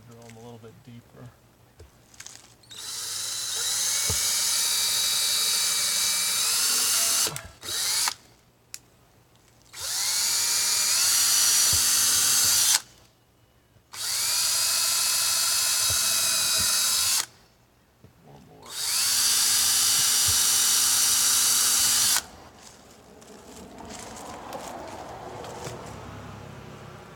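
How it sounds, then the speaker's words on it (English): A power drill runs in four long, loud bursts separated by short pauses, deepening pilot holes for mounting a solar LED security light outdoors, close to the mic with faint talk between runs. "Now that I got those, I'm just going to drill them a little bit deeper."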